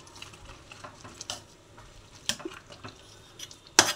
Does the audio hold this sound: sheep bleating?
no